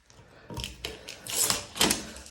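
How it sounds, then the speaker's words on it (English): Strips of tape peeled off a Kenmore Model 700S washer during a lid repair, a few rasping tearing bursts in quick succession, close and moderately loud with no talk. "Let's remove the tape."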